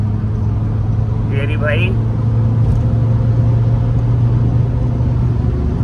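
A tuned Mercedes A200d roars at speed during a rolling drag race against a stock Honda Civic, a loud, steady engine and road rumble from inside the car, with someone briefly speaking over it.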